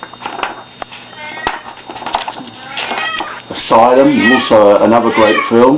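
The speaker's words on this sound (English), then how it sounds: "Sorry about that, that's my cat." A pet cat meows loudly and repeatedly in the second half, long drawn-out wavering cries close by, while someone talks over the first part.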